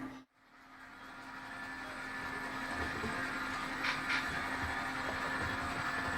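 An HO scale model train runs along the main line track of a home layout, a steady low rumble and faint clatter building gradually and holding at a quiet, even level, with no talking.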